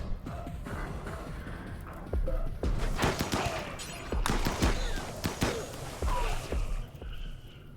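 Video game gunfire from a tactical battle in Inquest of the Dead crackles in irregular bursts of sharp shots and impacts, with fairly loud, dense volleys that come and go over a busy background.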